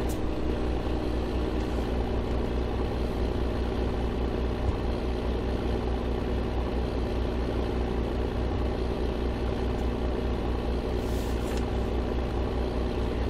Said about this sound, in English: it's a very good tractor for this job, I think. It seems to be doing a very good job. No power problems.